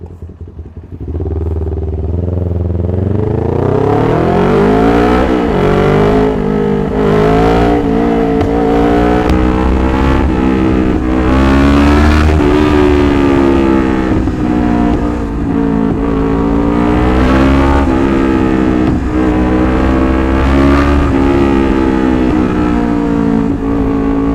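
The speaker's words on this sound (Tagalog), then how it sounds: "Ingay ng motor mo" A loud Kawasaki Ninja 400 engine with an Akrapovic exhaust idling close by, then revving up and down repeatedly with a rough, throaty roar.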